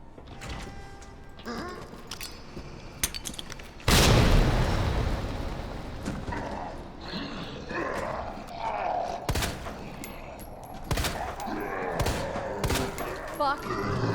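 A grenade thrown in Resident Evil 2 bursts in one loud blast with a long rumbling decay, surrounded by scattered sharp gunshots and players talking throughout.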